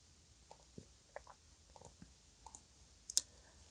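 Mouse clicks on a verify button during Upwork account setup, a string of small faint clicks spaced irregularly, ending with one sharper, louder click, close and alone with no talk.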